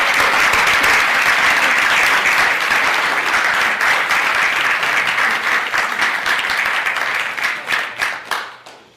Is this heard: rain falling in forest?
no